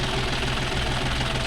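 A John Deere 5050D GearPro 4WD tractor pulling a nine-tine cultivator runs with a steady, loud, low diesel drone and rhythmic knocking throughout, with no talk.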